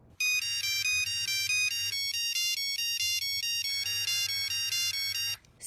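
A polyphonic ringtone on a phone plays a bright melodic electronic tune in repeating phrases, loud and close, and cuts off abruptly.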